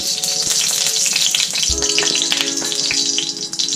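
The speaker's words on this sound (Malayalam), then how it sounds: "ആദ്യം നെയ്യ് ഒഴിക്കും" Ghee sizzles loudly in a hot pan, a dense steady crackle and hiss that holds without pause, with a few small knocks partway through.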